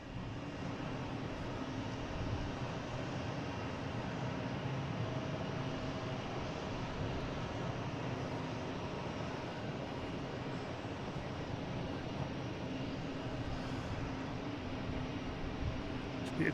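A Lufthansa Boeing 747-8 jet airliner lining up on the runway at Boston Logan gives a steady, distant, even roar that holds unchanged throughout, without any clear peaks.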